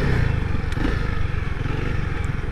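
A Honda CRF300L dual sport motorcycle rolls along slowly, its engine holding a steady, close, low-pitched drone with no sharp revving.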